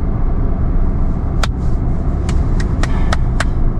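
A stock Suzuki Alto's small engine drones steadily and loudly from inside the moving car, with a few sharp clicks or ticks over the constant rumble.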